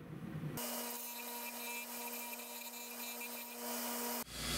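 Steady high-pitched grinding whine of a knife edge held flat against a spinning sharpening wheel, serrated on one side, running continuously for several seconds at close range, then cutting off abruptly.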